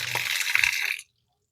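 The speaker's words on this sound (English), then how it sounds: "we got our spigot to run our water hose" Water gushes from an outdoor spigot that feeds a garden hose, a steady hissing rush for about a second before cutting off abruptly into silence.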